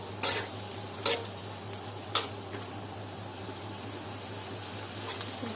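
Garden vegetables sauté in a pan with a steady, moderate sizzle. Three sharp scrapes of a spatula against the pan come in the first couple of seconds, then the frying hiss carries on alone.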